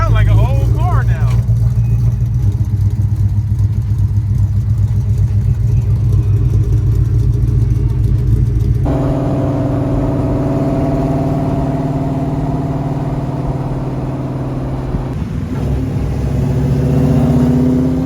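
A car with a swapped Coyote engine and a new exhaust runs loud and close, its deep rumbling idle shifting tone partway through, with voices talking over it.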